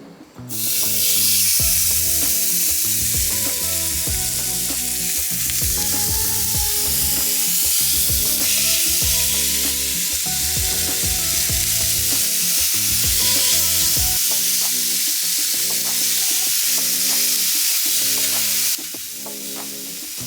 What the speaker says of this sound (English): listen to that beautiful sizzle